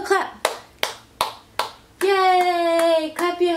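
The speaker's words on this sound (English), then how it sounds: "clap your hands" An eleven-month-old baby claps hands in several separate claps, crisp and close. An adult voice talks in between, and a sustained sung or vocal tone follows the claps.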